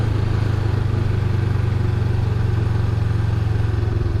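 A Honda Rebel 500 motorcycle rides along a residential street, its engine a loud, steady low throb with rhythmic pulsing and no change in pace, no voices.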